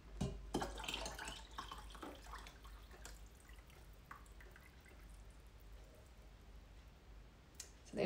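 Milk mixture with yogurt bacteria poured into a yogurt maker, quiet close liquid drips and clicks of the container, faint and uneven, with no talking.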